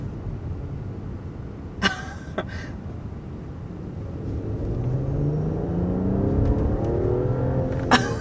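Luxury sedan with a 3-liter turbocharged inline-six accelerating hard, a steady engine rumble that swells and climbs in pitch in the second half, with a couple of brief clicks or knocks.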